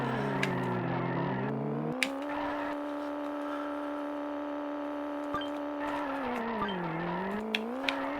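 Tiny toy race cars from the SNES game Micro Machines 2: Turbo Tournament whine steadily, their synthesized engine pitch rising and falling through turns, with occasional sharp clicks and bumps over a continuous electronic drone.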